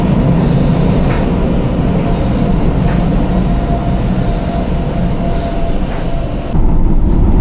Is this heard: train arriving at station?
yes